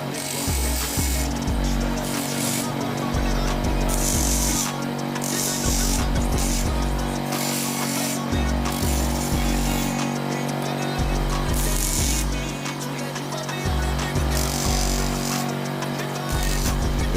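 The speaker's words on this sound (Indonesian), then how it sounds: "Setelah itu kita ratakan dengan memakai gerinda." A handheld grinder smooths a part for a mountain bike rear brake light, a steady loud high whine with repeated low pulsing surges throughout, continuous and close with no talk.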